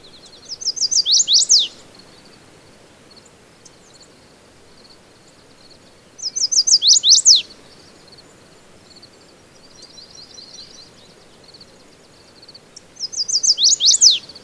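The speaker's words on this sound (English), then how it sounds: "this is an example of a song in a chestnut-sided warbler" A chestnut-sided warbler sings three loud, clear phrases of rapid high chirps ending in an accent, spaced several seconds apart, with softer twittering between them.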